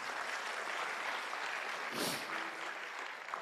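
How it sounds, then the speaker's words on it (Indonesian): An audience at a motivational seminar claps steadily, a soft, even wash of applause with a brief louder burst midway. "gak ada salahnya tepuk tangan yuk buat TNC dan One Vision"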